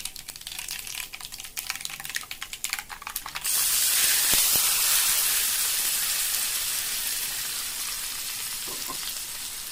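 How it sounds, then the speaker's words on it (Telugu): Urad dal, chana dal, mustard seeds and cumin hit hot oil for a tempering. Rapid crackling pops at first give way to a loud, sustained sizzle up close, which slowly fades. "మినపప్పు, శనగపప్పు, ఆవాలు, జీలకర్ర, ఆయిల్ వేసుకొని ఆయిల్లోకి ఇది పోపు వేసుకొని చిట్టుపట్లాడినాక"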